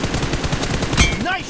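Rapid automatic gunfire in a team deathmatch video game on the Santorini map, a quick loud burst of repeated shots close up, ending in a brief tonal game sound.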